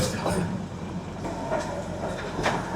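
A Darjeeling toy train rolls along the Gayabari line through jungle, with a steady rumble and soft clickety-clack of the carriages and no talk.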